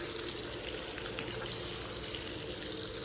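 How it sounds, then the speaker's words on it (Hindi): Cold water gushing and splashing continuously at close range on a hot day, a steady dense rush without pauses and with no talk over it. "है जी ठंडा ठंडा पानी मार के"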